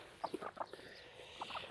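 A hen clucks in short, irregular bursts, a few quick clucks, a pause, then several more, fairly close with a quiet background.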